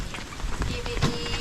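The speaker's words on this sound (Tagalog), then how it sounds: "Ang lakas ng ulan na no." A steady downpour of heavy rain hisses without pause, spattering on surfaces, while voices speak nearby over the continuous wash.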